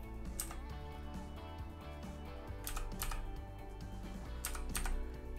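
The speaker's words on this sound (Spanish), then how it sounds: "Y voy a introducir el código, que es un código de 6 dígitos. Entonces escribo el código." A six-digit code is keyed in on a computer keyboard, a quick run of soft, close keystrokes in irregular bursts against faint background hum, with no voices.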